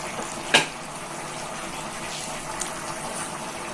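Boiled goat intestines are poured together with their cooking water into a pot of gravy, giving a steady watery gush with a brief splash near the start.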